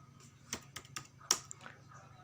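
Commands typed on a computer keyboard into a router's command line: a handful of crisp, close keystrokes in an uneven rhythm, the last tap a little louder, with no voice over them.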